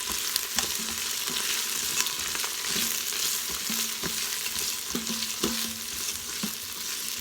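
Red onion mixture sizzling in a pan under steady stirring, with a continuous frying hiss broken by regular scraping and tapping strokes of a spoon against the pan, close and moderately loud, without voices.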